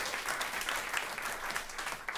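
Steady applause from an audience at a Climate Week event rings out close and full for a couple of seconds, with no talking over it.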